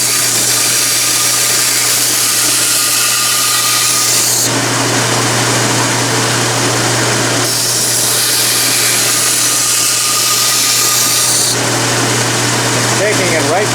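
A belt sander grinds metal parts for a steam engine in a workshop: steady, loud abrasive rasping with a constant low hum, surging and easing in long passes.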